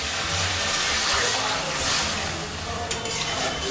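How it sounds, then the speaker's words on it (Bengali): Water poured into a hot pan of fried potatoes and spices, a steady sizzling, bubbling wash close up that stays loud throughout with slight stirring. "আলুর সাথে মশলাটা ভালো করে কষা হয়ে গেছে, এবার এর মধ্যে জল দিয়ে দেব।"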